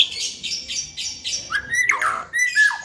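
A magpie robin (murai) with freshly moulted feathers and a long tail sings loud, clear, rapid repeated chirps, then shifts into varied whistled and squawky phrases, close and alone.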